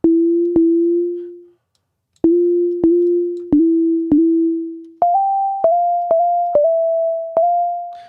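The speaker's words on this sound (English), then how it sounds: "instrument wavetable, it's just a sine wave. And I make this mono and turn the glide up." A pure mono wavetable synth sine tone with glide plays a sequence of sustained notes with short plucked attacks, sliding smoothly up in pitch midway and then settling.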